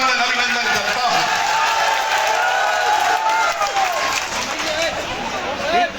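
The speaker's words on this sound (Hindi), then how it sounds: "तालियों की खड़खड़ाहट" A political rally crowd for a Samajwadi Party leader in Naugaon claps steadily, a dense broadband patter of applause that runs throughout while an amplified voice speaks over it.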